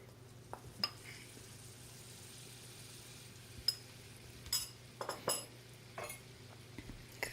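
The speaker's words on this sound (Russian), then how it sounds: "Хорошо это все размешать, чтобы не было комочков." Quiet scraping and stirring of flour into melted butter in a pan over a low hum, with occasional light clinks of a utensil against metal.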